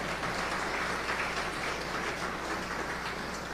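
Steady, dense clapping from a crowd at a Haitian women's movement 40th anniversary event, sustained at an even level throughout with no pauses or voices standing out.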